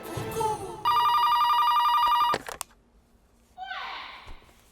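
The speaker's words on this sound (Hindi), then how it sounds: "नीना जी को फोन लगा।" A loud electronic phone ring buzzes for about a second and a half after brief voices, then cuts off before a voice and a sigh follow.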